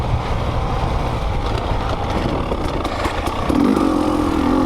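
A 2020 KTM 300 XC-W dirt bike ridden slowly off-road, its engine putting along at low revs with clattering and crunching from the terrain, then a short rise in revs near the end.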